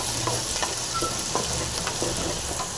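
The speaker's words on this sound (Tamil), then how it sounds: "தக்காளி போட்டு இதையை வந்து நல்லா ஃப்ரை பண்ணிக்கலாம்" Tomatoes fry in a pan for a kuppaimeni herbal soup, giving a steady close sizzle with a run of quick, regular stirring scrapes and no speech.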